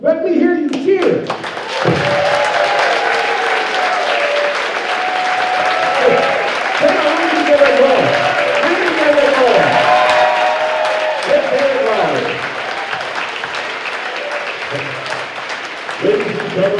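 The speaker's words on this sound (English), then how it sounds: "Let me hear you cheer." An audience at a school jazz concert claps and cheers loudly, with dense applause and whoops that swell and then carry on steadily, mixed with shouting voices.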